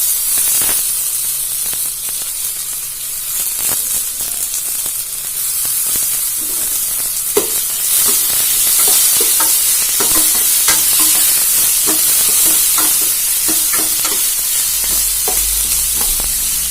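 Tomato and chopped onion sautéing in a pan for a leftover rice dish, a steady close sizzle and hiss running throughout with repeated spatula stirring scrapes and clicks, no voices.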